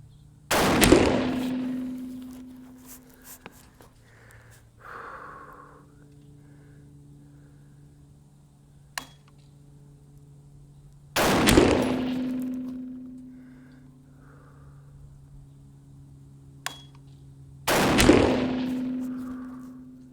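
Three loud, sharp gunshots from a .350 Legend rifle firing experimental loads crack out several seconds apart on an outdoor range, each followed by a ringing decay and echo, with faint clicks between them.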